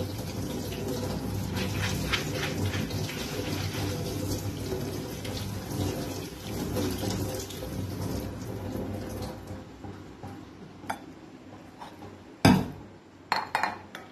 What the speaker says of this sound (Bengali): একবার ধুয়ে দিই জলটা দিয়ে